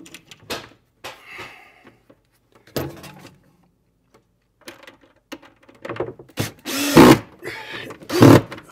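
A power drill drives a screw into a kitchen cabinet, with short whirring bursts and clicks scattered across the stretch, building to two louder, longer drill runs near the end.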